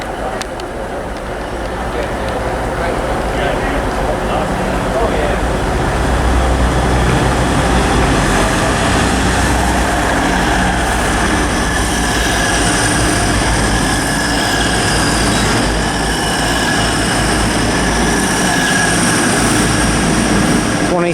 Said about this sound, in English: next train to pass through is a Grand Central Class 180 from Sunderland to London King's Cross